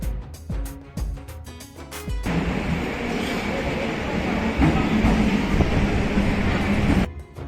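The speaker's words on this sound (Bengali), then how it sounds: "ট্রেন নৈহাটি স্টেশন ছেড়ে দিয়েছে" A train pulls out of Naihati station, where a few sharp knocks and clanks give way to a steady loud rumble of the moving carriages that cuts off near the end.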